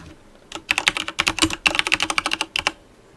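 Fast, uneven keystrokes on a computer keyboard, close and crisp, with a short pause partway through and no voices.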